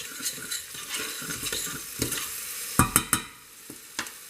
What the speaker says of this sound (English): so now it is indeed time to add our onions to the mixture. We allow these to just quickly turn translucent